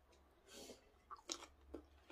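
Quiet, close-up chewing of crunchy pickled spider flower vegetables, with a few crisp crunchy bites spaced irregularly, soft and intimate, no talking.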